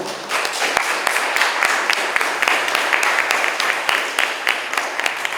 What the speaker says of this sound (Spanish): les pido un aplauso para nuestra invitada de esta tarde